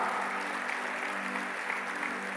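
Sustained applause from a church congregation during a sermon, dense steady clapping filling the whole span at an even level, with no clear voices above it.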